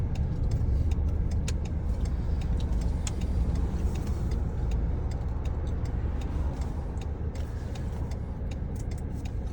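Rush hour road traffic in Thailand streams past in a dense, continuous rumble of cars and engines, with scattered faint ticking and clicking sounds over the steady roar.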